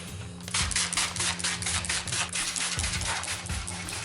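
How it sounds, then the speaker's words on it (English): Rapid spritzes from a spray bottle wetting carbon fiber vinyl wrap on a motorcycle, a quick series of hissing bursts fired one after another, close by and fairly loud. "Missed it with the spray."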